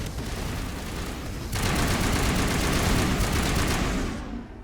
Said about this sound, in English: assault rifles are pretty strong, I'm not gonna lie